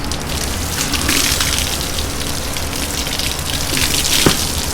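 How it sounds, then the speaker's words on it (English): Close, continuous spray of cold water from a hose splashing onto a pony's legs, a steady hissing gush with slight surges and no talk. "so it starts with his legs, and he gets used to the cold, nice cold water"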